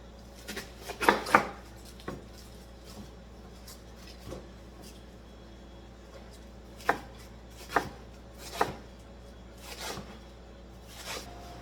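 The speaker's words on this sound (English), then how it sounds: "So here I'm going to shred the lettuce." Knife chopping through lettuce on a cutting board, a few clustered chops followed by sparse single cuts spaced out over several seconds, close and crisp against a quiet kitchen background.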